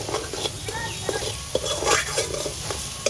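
Spice paste frying in oil in a pan while a spoon stirs it, with steady sizzling and scraping clicks close up during home cooking of a toor dal and fish dish.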